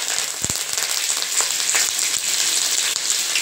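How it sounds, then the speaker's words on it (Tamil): Bay leaf, cinnamon, cloves and cardamom sizzle steadily in hot oil in a kadai, a close, even frying hiss with small crackles and pops throughout. "ஒரு பிரிஞ்சி இலை, பட்டை, லவங்கம், ஏலக்காய்லாம் போட்டிருக்கேன். அது நல்லா கொஞ்சம் வறுபடட்டும்."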